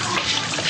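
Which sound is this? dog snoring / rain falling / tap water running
tap water running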